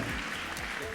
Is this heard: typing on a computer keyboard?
no